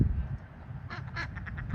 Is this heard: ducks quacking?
yes